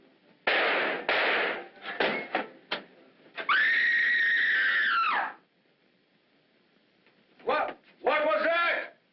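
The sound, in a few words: scream in film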